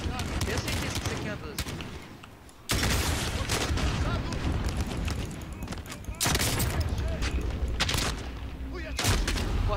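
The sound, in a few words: gunfire in Call of Duty Warzone video game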